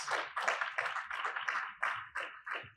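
A small group claps in steady, separate bursts, about nine distinct rounds of hand claps, fairly close with no voices.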